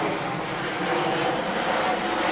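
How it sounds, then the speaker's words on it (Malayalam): A UPS cargo plane passes close by near Sharjah Airport, its engine roar a steady, loud broadband rush that holds throughout with no talking. "അതുകൊണ്ട് തന്നെ ഇതാ ഫ്ലൈറ്റ് പോകുന്നത് കാണാം."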